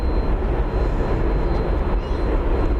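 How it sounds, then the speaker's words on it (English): An Airbus A380 on the runway at Dallas Fort Worth airport sends out a loud, steady broadband rumble and roar of jet engines that holds even throughout, with no voices. "There is Airbus A380 number 2 for you here on Runway DFW"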